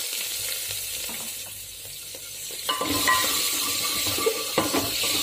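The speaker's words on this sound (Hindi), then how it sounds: "प्याज को मैंने रफली चॉप किया है, और इसको हम थोड़ी देर भूनने देंगे" Roughly chopped medium onion frying in a pot for vegetable pulao, a steady close sizzle with scattered clinks and stirring knocks growing busier toward the end.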